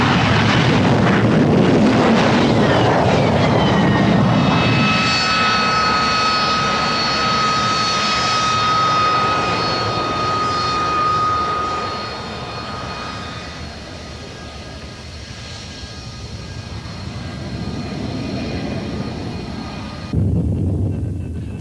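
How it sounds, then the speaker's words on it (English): A Harrier II jump jet with a Pegasus vectored-thrust engine roars loudly and steadily with a high whine as it comes in to hover or land, the thrust easing slightly before surging again near the end. "Coming in to hover or land, the giant flaps are lowered, giving extra lift in partnership with the thrust from the vectored nozzles of the Pegasus engine."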